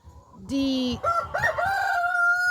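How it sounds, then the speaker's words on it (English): A rooster crows loudly and close by on a chicken farm, a long drawn-out call with rising and falling tones, followed by further overlapping crowing from several roosters. "they're just crowing so much and the video is gonna be so noisy"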